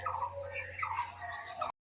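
Pet pigeons in a home loft give soft repeated coos and chirpy calls close by, a steady low hum beneath, ending in sudden silence.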